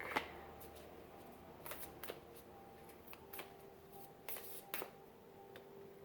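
A deck of tarot cards being shuffled near the microphone, soft irregular riffles and crisp flicks in small bursts, quiet with a low hum underneath.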